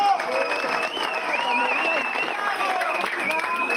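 Applause from an audience at an academic session on gesture and masculinities, steady clapping with some crowd noise and voices mixed in, continuous and fairly loud throughout.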